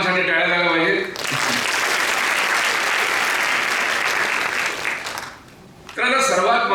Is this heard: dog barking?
no